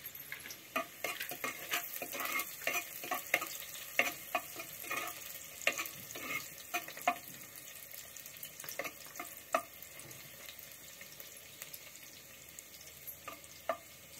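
Onion frying in a pan for a Malvani crab masala gives a faint sizzle beneath repeated stirring clinks and scrapes of a utensil, fairly quiet and intermittent throughout.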